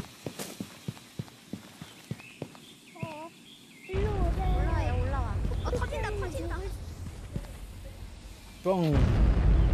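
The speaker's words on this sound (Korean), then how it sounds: "이제 이 폭죽 터지는 거 한번 볼게요." Fireworks burst in the VR game A Township Tale, a series of sharp pops at first, then louder booming crackles with whistling rising shots, while people talk over the noise.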